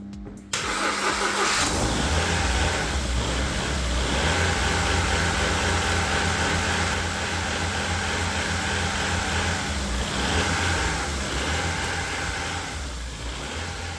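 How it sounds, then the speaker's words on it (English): A rebuilt, previously wrecked Ford Fiesta engine cranks and catches, then roars loudly at full throttle, holding a strained, steady whine for several seconds. "Even though the car started, I was giving full throttle here"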